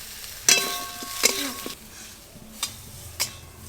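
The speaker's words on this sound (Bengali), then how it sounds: "ঝোলের জন্য সবজি কিন্তু খুব বেশি লাল লাল করে ভাজার দরকার নেই, এরকম হালকা করে ভেজে নিলেই হবে" Vegetables for a fish curry fry lightly in a pan: a soft sizzle under a few sharp spatula scrapes and clinks against the metal, spaced irregularly and fairly close.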